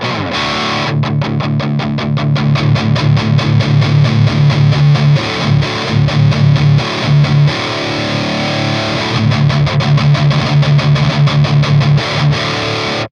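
An electric guitar plays through a high-gain amplifier with the gain turned all the way up, thick saturated distorted chugging riffs with palm-muted stops, loud and alone.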